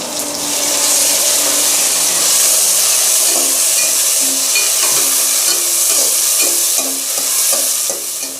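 Onions and tomatoes fry in a pan with a loud, steady sizzle and hiss, while a spatula stirs and scrapes in repeated strokes close by.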